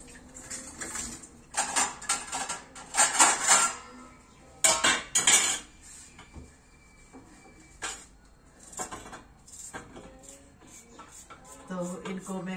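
A frying pan repeatedly clatters and slips on a gas stove, giving several sharp metallic clanks in bursts with quieter handling noises between, close and moderately loud.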